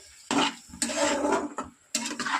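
Cumin, coriander and chilli being stirred in a pan, close scraping and rustling strokes in uneven bursts separated by short pauses.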